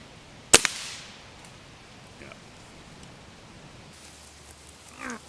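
A Crosman .177 Nitro Venom break-action pellet rifle, loaded with heavier pellets, fires one sharp, close crack near the start, followed by quiet outdoor ambience and a few faint small noises.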